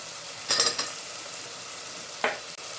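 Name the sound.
tomatoes added to sizzling pan for veg soybean biryani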